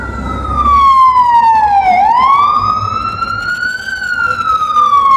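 A loud, close ambulance siren wails continuously, its pitch falling and then rising again, with road rumble underneath.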